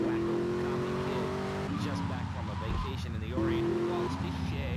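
A car driven through the streets of GTA Vice City, its in-game engine droning steadily and shifting pitch as it accelerates, with speech running over it throughout.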